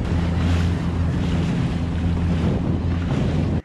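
A waverunner speeds across open ocean, with loud continuous wind buffeting and rushing water and spray from the waves, steady and close throughout before cutting off abruptly at the end.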